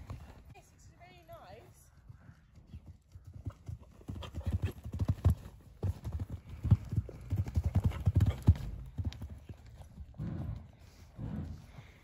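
Horse hooves canter on the footing of a riding arena during a jumping lesson, a rhythmic run of clip-clops growing louder as the horse passes close, while a coach calls out instructions over them.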